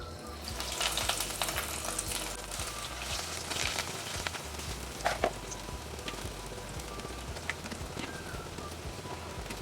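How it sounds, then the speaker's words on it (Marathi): Potato lollipop balls deep-frying in oil, a soft, even bubbling sizzle held at a steady level throughout, with an occasional faint clink. "आता आपण आपले बाकीचे बॉल्स पण असेच फ्राय करून घेऊयात।"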